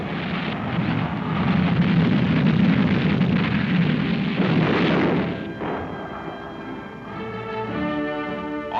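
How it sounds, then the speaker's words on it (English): Napalm bombs dropped by Sabre jets burst into a dense, continuous roar of explosions and fire in 1950s newsreel footage, loud and rumbling for about five seconds before easing into quieter crackling and lingering noise. "Sabre jets unleash a fiery fury of gelid gasoline napalm bombs."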